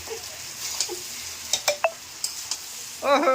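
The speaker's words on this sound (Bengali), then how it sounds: "ভালো করে এটা কিন্তু নাড়িয়ে চড়িয়ে নিচ্ছে" Rice stirred in a wok (kadai), with scattered metallic scrapes and clicks of the utensil over a soft sizzle, and a brief voice-like sound at the very end.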